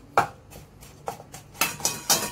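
A knife finely chopping salted mustard greens on a board for Chiu Chow fried rice, several separate crisp taps spaced irregularly and then quickening into a few louder, closer chops near the end.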